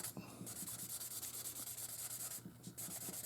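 A fine 2500 grit sanding stick rubbed over a plastic 1/48 F/A-18D Hornet model kit, giving a steady, rapid back-and-forth scratching close up with a few brief pauses.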